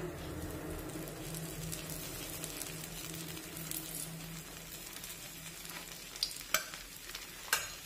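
Bajra flour dhirde frying in oil on a pan over medium heat, giving a steady close sizzle throughout, with a few sharp clinks near the end.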